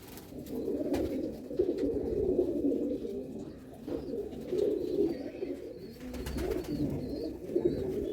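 Madrasi pigeons (Bengal line) cooing continuously in a loft, low rolling coos layered over one another at moderate distance with no speech.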